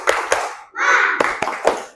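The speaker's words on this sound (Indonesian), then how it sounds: "tepuk semangat." A primary-school class claps out a short rhythmic spirit cheer: a few sharp, close hand claps, a brief burst of noisy group sound, then more spaced claps.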